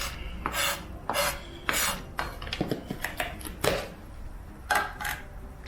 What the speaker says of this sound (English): I will chop up a little bit of this just a little bit finer.